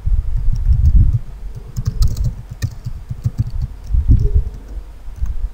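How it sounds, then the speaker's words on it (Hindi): Fingers type on a computer keyboard in a word processor, a close, steady run of soft clicks and thumps with brief pauses between bursts. "सबसे पहले यहाँ पर इसका हेडिंग टाइप करें"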